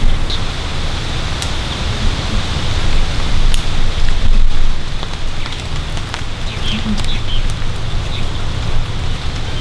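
Steady rain hisses continuously over an outdoor backyard archery course, with occasional louder drops and pattering cutting through the constant wash.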